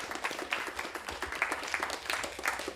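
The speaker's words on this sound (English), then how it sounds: "Big round of applause, please, for Alan Corbier" Scattered clapping from an audience at an Anishinaabe Giizhigad gathering, fairly faint and uneven, with individual claps popping out of a soft, brief round of applause.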